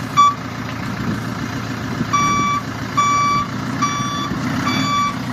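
Mercedes dump truck backing up to unload firewood, its reversing alarm sounding in repeated loud beeps over a steady diesel engine rumble, with no talk.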